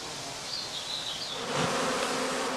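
Honeybees from a heather skep apiary buzz steadily and close by, a dense, continuous hum of many insects that swells slightly louder partway through, with no voices.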